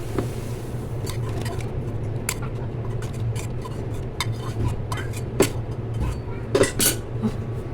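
Clinks of fried fish being set into a bowl in a home kitchen, a scatter of light dish and cutlery knocks over a steady low hum, close and moderately quiet.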